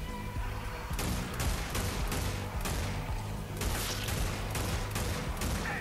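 Gunfire in the zombie shooter Zombie Army 4: Dead War, a loud, dense run of repeated shots in quick bursts over a constant roaring game backdrop, with no voice over it.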